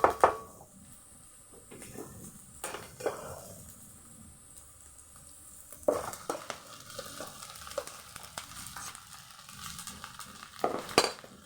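Rice frying in a pan gives a soft sizzle broken by repeated scraping and stirring clatters of a utensil against the pan, near and moderately quiet, with no talking.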